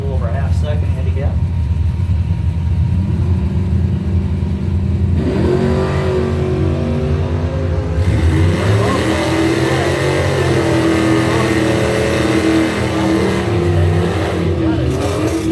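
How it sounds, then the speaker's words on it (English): A 1986 Camaro drag racing a Yamaha Exciter snowmobile launches with loud engine roar and revving that builds and shifts across the run, a steady mechanical drone under a spoken voice. "It's going to be the Camaro leaving first here by a little over a half second handicap."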